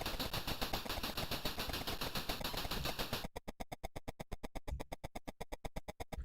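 Machine gun fire in the Cabal video game on a Commodore 64, rapid rhythmic chiptune bursts, first dense and mixed with game noise, then crisp evenly spaced shots continuing steadily to the end.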